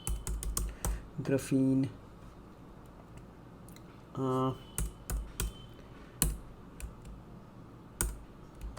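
Python code for a GraphQL app typed on a computer keyboard, quick clusters of close, clicky keystrokes with pauses between, while someone speaks in short phrases over the typing.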